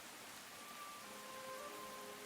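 Rain falls in the Tales of the Shire hobbit farming game as a steady, soft, even hiss that never lets up. It stays faint and alone, with no voices.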